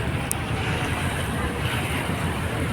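A passenger launch travels on the river from Barisal toward Dhaka, with a steady broadband rumble of engine, water and wind that runs unbroken and fairly loud throughout, and no talk.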